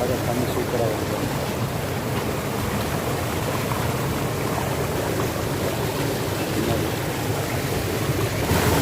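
River water flowing near a cardamom estate, a steady broadband rush of moving water that continues without break, with light wind buffeting the microphone throughout.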